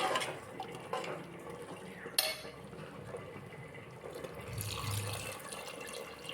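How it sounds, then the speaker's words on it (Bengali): Water poured into a pot of fried dalia and dal for a vegetarian sabu khichuri, a steady splashing fill with light clinks of utensils, close and moderately loud throughout. "পরিমাণ মতো জল ঢেলে দিলাম।"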